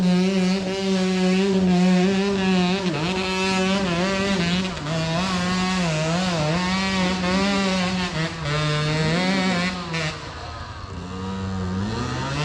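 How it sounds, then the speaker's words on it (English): A Husaberg 125 dirt bike engine revs hard and continuously on a steep hard enduro hill, its pitch rising and dipping as the throttle is worked, loud and close. "Listen to his Husaberg 125."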